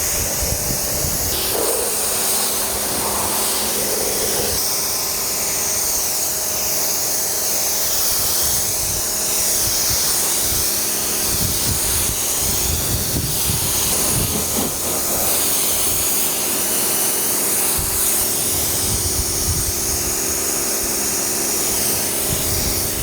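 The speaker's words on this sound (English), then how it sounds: "now to rinse the vehicle off" Pressure-washer water spray rinsing a Toyota Corolla during a hybrid car wash, a steady loud hiss of spray running continuously with shifting intensity as the stream moves over the body panels, no talking.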